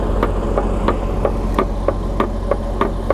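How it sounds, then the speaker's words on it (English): A worn ring gear with heavy play inside a Freightliner Cascadia differential, run without oil, gives a steady loud knocking, about three regular clunks per second over a continuous low rumble. "You can hear that play because the ring gear is completely wear out"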